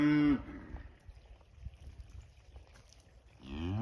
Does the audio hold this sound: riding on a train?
no